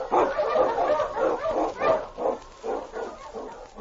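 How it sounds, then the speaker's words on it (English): King, an Eskimo sled lead dog, barks and yelps repeatedly in an old radio drama about the Yukon, a steady run of loud, close barks. "The Wonder Dog King, swiftest and strongest of Eskimo lead dogs, blazes the trail through storm and snow for Sergeant Preston"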